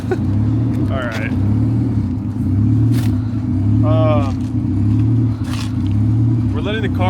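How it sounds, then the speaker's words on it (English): A racecar's engine idles while warming up outdoors on a cold day, a loud steady rumble with slight rises and dips throughout, as people talk over it at several points. "We're letting the car warm up right now."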